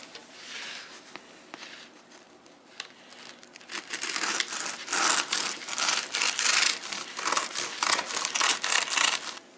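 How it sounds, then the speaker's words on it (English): A knife saws through a loaf of homemade sandwich bread, quiet at first and then a run of loud, crackly crust-crunching strokes in quick rhythm, close up with no talking. "Try one more slice there."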